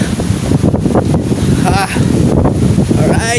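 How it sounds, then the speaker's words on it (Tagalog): Strong monsoon wind roars and buffets the microphone with surging sea waves beneath, a continuous loud rush with bursts of gusting. "paglakas ng hangin, paglaki ng alon"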